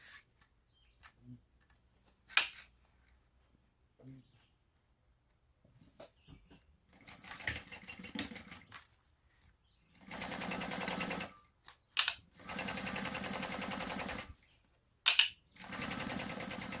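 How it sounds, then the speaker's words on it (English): A sewing machine stitches down the side seams of a fabric shoulder bag in short, quick bursts, with quiet gaps and small clicks between the runs and longer steady whirring passes toward the end. "we'll sew down each of these sides at the seam allowance in the pattern, leaving the bottom open"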